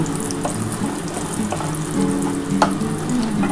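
Bori lentil dumplings fry in hot oil for a vegetarian greens dish, giving a continuous close sizzle with small pops and crackles throughout and no voices.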